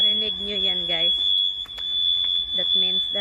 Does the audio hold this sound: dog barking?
no